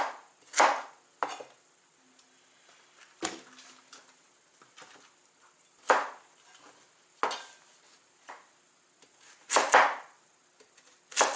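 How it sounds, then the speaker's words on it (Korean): Tomatoes being cut into large quartered chunks and broccoli stems chopped on a cutting board: sharp, close knife strikes in an irregular sequence of about eight chops, separated by quiet pauses. "믹서기에 들어갈 수 있을 크기 정도만 되게끔 이렇게 큼직큼직하게 썰어주시면 됩니다"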